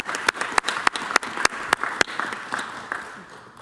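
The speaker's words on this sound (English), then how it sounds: "I think that deserves a round of applause as well." A short burst of applause at a city council meeting, a small group of people clapping close by with distinct individual claps that thin out and fade near the end.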